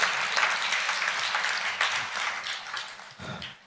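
Applause from a congregation at a Christian sermon, a dense, steady wash of many hands clapping that fills the whole moment and tapers slightly toward the end.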